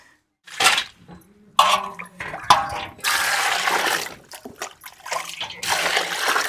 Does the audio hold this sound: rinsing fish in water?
yes